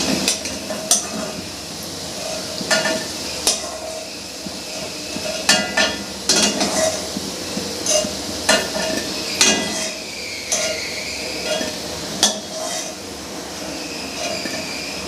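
Homemade sweets frying in a pan make a steady, close sizzling hiss, broken by frequent sharp clinks and scrapes of a utensil.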